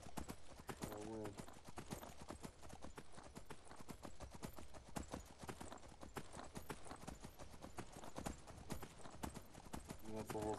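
Steady hoofbeats clip-clop throughout at a brisk rhythm in Skyrim VR, with a voice talking over them now and then.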